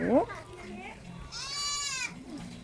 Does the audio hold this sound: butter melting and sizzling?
no